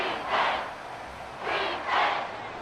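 Stadium crowd noise from a PS5 football sim rises and falls in two broad swells of roaring cheer, loud and diffuse, with no distinct voices standing out.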